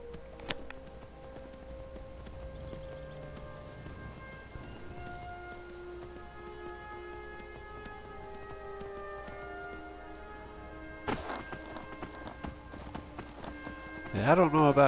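Horse hooves clip-clop in Skyrim, a steady galloping rhythm at moderate level under ambient game music tones, with a sharper burst of sound near the end.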